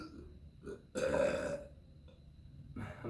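A person burps while lying comfortably in bed: one loud, drawn-out belch in the middle, with softer short throaty sounds before and after, close and intimate in a quiet room.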